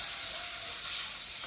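Ghee tadka sizzling loudly in a pan while sooji halwa is cooked, a dense steady frying hiss that fills the whole moment with no voices.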